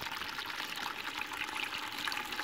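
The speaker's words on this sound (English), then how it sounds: "And then just turn the tap to turn it on" Water running from the tap of a wheelie bin converted into a rainwater butt, a steady close pouring splash that continues unbroken throughout, with no talk.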